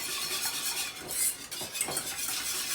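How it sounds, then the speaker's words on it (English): A whisk stirs homemade Alfredo sauce in a pan, a soft continuous swishing with faint scraping, hissy and quiet, with brief clinks against the metal. "The more you whisk, the thicker it's going to get."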